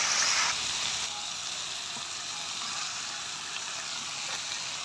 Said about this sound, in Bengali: তো এবার আমি সিদ্ধ করা সিমের দানাটা দিয়ে দেবো।